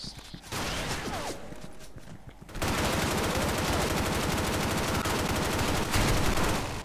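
Rapid automatic gunfire rattles in the online shooter Special Force 2, starting with bursts and then running as sustained loud fire, with a voice briefly audible early on.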